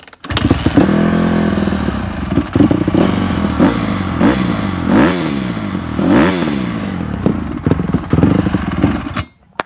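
Motorcycle engine running without the choke, loud and close, sputtering and lurching with uneven revs that rise and fall several times before cutting out.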